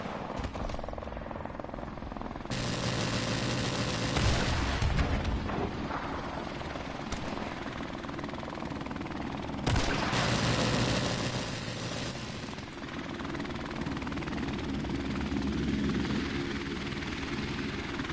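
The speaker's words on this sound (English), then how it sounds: "Enemy helicopter inbound." An enemy helicopter in the shooter game Call of Duty: Modern Warfare Remastered thuds its rotors through two loud passes that start and stop abruptly, over continuous game ambience and gunfire-like bursts.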